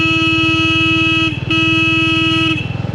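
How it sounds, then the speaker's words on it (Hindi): Motorcycle horn honked on an empty road, a loud sustained steady tone held for about a second and a half, a brief break, then another long blast, sounding alone with no talking. "मैं हॉर्न मारूं, ये देखिए"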